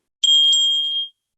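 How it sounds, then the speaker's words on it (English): A single clear, high-pitched hiking bell ding rings out sharply and fades over about a second, alone in silence. "I think they've done a great job of tuning the bell because it's not an irritating sound."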